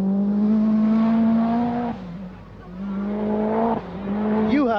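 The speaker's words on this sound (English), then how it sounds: "Mikael Eriksson was simply storming along in his Lancia" A Lancia rally car races flat out on a rally stage, its engine droning high and steady, dropping briefly on a gear change or lift, then revving hard again, loud and close with a commentator-style voice over it.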